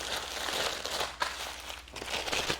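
A plastic bag crinkles and rustles softly up close as pork chops are shaken inside it to coat them in olive oil, giving quiet, uneven bursts of crackle with no talking.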